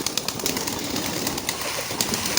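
Pigeons feeding flutter and shuffle nearby with soft coos and occasional wing flaps, a busy, steady scuffling of birds close to the microphone.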